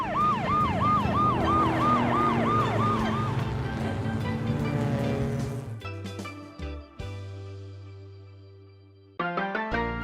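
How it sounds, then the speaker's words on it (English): An ambulance siren wails in repeated rising sweeps, then gives way to other loud electronic toy-like tones and beeps that start and stop abruptly; no talk. "Ambulance."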